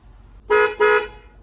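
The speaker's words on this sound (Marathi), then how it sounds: "असं काहीच हॉर्न टाकले" An aftermarket horn fitted on a pickup truck sounds two loud, even honks, each about a third of a second with a short gap between, standing alone against a quiet background.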